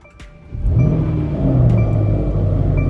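A Mercedes E63 left unused for a week cranks over and fires, settling into a loud, close, deep idle rumble with a brief rise in revs.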